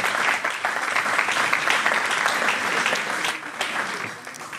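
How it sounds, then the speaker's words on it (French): Guests at a 2022 wedding celebration in Illinois applaud, a dense, sustained wash of clapping from a sizable crowd that stays loud throughout and eases slightly near the end. "Sous nos applaudissements."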